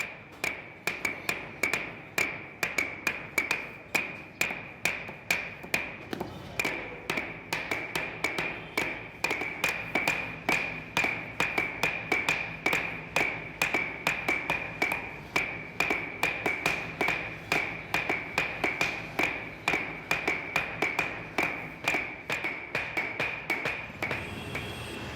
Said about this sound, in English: This metalsmith spends several hours hammering in order to produce these fine silver leaves to be used as pastry decorations or offerings to the temples.